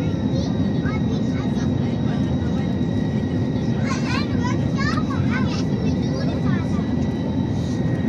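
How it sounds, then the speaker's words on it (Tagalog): Steady loud roar of a passenger airplane cabin while landing at Jeddah, a constant engine drone throughout with children's voices and chatter faintly audible over it. "We are landing at Jeddah."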